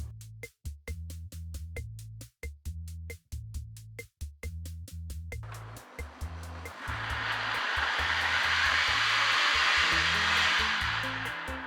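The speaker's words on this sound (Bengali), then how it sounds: "তারপরে আমি মিক্সির জারের ঢাকনাটা আটকে দেব আর একদম এটাকে স্মুথ পেস্ট করে নেব।" Mixer grinder blending cucumber into a smooth paste for a summer cooler drink: a pulsing motor that stutters on and off, then settles into a loud steady whirring roar nearby.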